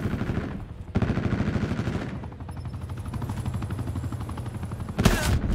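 Shotgun fire in Call of Duty Black Ops 4 multiplayer: loud, sharp blasts open and close the stretch, with a rapid rhythmic chatter of shots and game noise in between.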